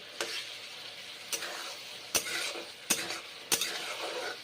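Cauliflower stalk chorchori cooking in a pan, a soft sizzle punctuated by five sharp spoon clacks and scrapes against the pan at uneven intervals, close by.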